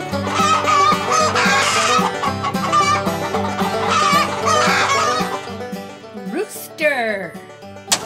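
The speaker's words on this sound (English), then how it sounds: "Rooster." Several roosters cluck and crow loudly and close by, with repeated throaty calls and a rising crow near the end, over a busy background.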